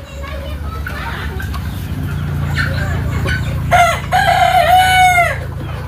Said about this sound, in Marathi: हे बघा सगळ्या कोंबड्यात थोडासा अंधार असल्यामुळे दिसणार नाही